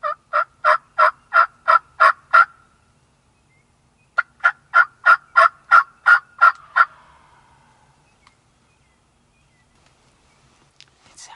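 Two bursts of loud wild turkey gobbling from longbeard gobblers, each a rapid run of about eight throaty pulses, separated by a short quiet gap, close behind in the woods at dawn during spring youth season.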